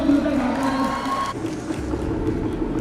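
A large crowd at a pencak silat sports event in Xiangkhouang, Laos, cheers and claps loudly, a dense roar of voices and applause that swells briefly and then settles into a steady wash.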